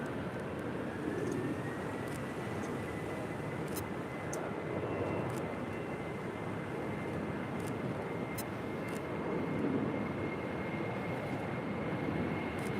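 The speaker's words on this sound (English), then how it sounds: "There's so many planes right now." A steady roar and high whine of jet airplanes taxiing at LAX airport, continuous and moderately distant throughout, with faint clicks over a constant engine drone.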